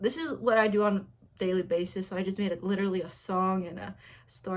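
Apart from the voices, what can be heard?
No everyday noises stand out.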